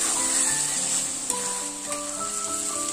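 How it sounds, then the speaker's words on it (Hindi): Boiled potatoes hit a pan of frying masala with a loud, steady hiss and crackle that stays close and continuous, while soft tonal music plays underneath. "अब उसमें बॉयल किया आलू ऐड कर रही हूँ"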